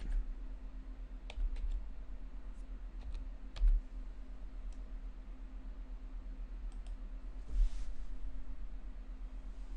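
Sparse, soft keystrokes on a computer keyboard as a password is entered, a few scattered clicks with brief pauses over a low steady hum of room noise and a fan.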